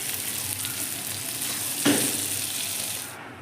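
Vegetables with spices frying for khichdi in a pressure cooker, making a steady close sizzle with one sharp stirring clink midway before the sound fades slightly near the end.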